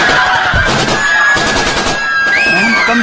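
Rapid gunfire bursts crackle loudly during an audio drama scene of the 26/11 Taj Hotel attack, mixed with dramatic sound effects, shouting voices and a tense musical tone.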